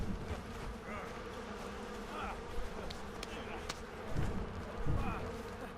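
A swarm of bees buzzes steadily in the prehistoric game Far Cry Primal, a dense, continuous drone with individual insects swelling louder at moments, while someone talks over it.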